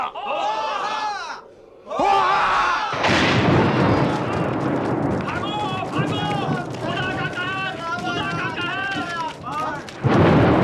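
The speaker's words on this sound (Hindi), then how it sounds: "बादलों की गरज से न डरो, न भागो" Thunder roars through a crowd scene in a Bible story of Noah, a loud sustained rumble under shouting voices after a brief chant-like opening.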